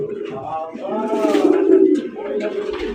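Pigeons on a farm coo steadily in a close, layered chorus of throaty burbling calls, with faint talk mixed underneath.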